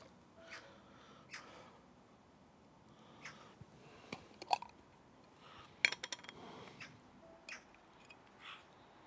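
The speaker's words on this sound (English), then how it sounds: "Some noisy blooming crows up there. Oh, magpies, that is, magpies." Several harsh, chattering magpie calls burst out at irregular intervals, some loud and close, over a quiet outdoor background with occasional clinks.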